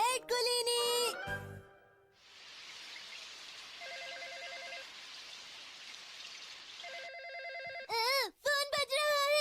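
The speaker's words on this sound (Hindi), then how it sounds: "फोन बज रहा है, फोन बज रहा है।" An animated-cartoon telephone rings in a household scene, two short bursts of bright electronic ringing over a soft hiss, framed by voices speaking before and after.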